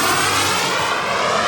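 A small Elite Aerosports Picaro aerobatic plane drifts slowly past at altitude, its engine giving a steady, broad, fairly loud drone that holds evenly throughout with no voices over it.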